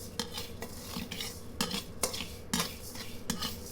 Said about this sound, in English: we'll just be roasting the rice